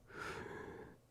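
A person's voice mimics heavy breathing in one short, soft, breathy exhale, heard alone and faint.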